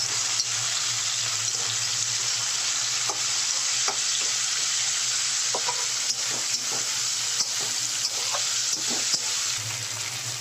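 Onion and tomato frying in a curry pan, sizzling steadily and loudly while a spoon stirs, leaving scattered scraping clicks over the hiss, with no talking.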